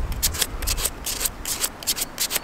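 Hand sanding on a carved wooden spoon: quick, close, repeated abrasive rubbing strokes in an uneven rhythm, about a dozen scrapes with no voices.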